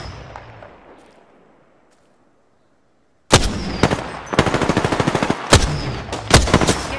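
Rapid automatic gunfire in Apex Legends erupts suddenly after near silence, loud close bursts of shots in quick rhythmic strings with a few heavier single cracks.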